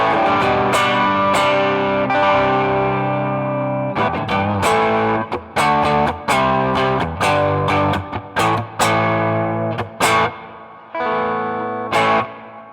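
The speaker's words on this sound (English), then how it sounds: "So here's a tube screamer." An electric guitar played through a Tube Screamer overdrive pedal into an amp rings out in sustained, overdriven chords and note bursts, loud and close, with brief choppy gaps between phrases.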